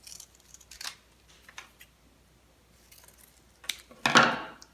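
Scissors cut triangles from folded paper, a few short crisp snips with quiet gaps, the last cut louder and longer with a rustle of paper.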